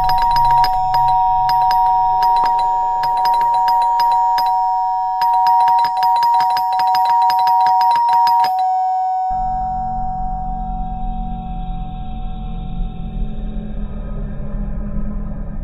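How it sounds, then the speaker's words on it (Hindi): A doorbell rings again and again in quick bursts of bright electronic chimes, loud and close, then gives way to a low sustained drone of eerie horror-story music. "माया ने देखा कि कोई ज़ोर से उसकी डोरबेल बजा रहा है।"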